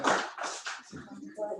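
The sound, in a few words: applause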